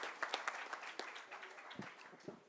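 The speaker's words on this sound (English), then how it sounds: "With a huge round of applause, let's welcome Mr. B.R." An audience at a tax refresher course gives a round of applause to welcome a speaker. The clapping is faint and distant and fades over a few seconds.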